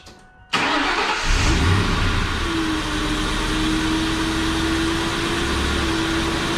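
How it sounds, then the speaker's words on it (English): A 1999–2004 Ford Mustang GT with a 4.6L V8, fresh from an oil change, cranks and fires up abruptly, then settles into a steady, loud, close idle with a low rumble and a faint whine. "now we start the car and let it sit for a little bit"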